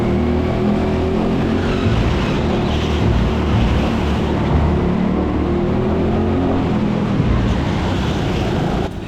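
Racing karts on an indoor track at a Grid Series round, a dense continuous engine roar with overlapping motors that rises and falls slightly, loud and steady throughout.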